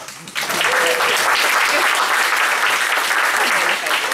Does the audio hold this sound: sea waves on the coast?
no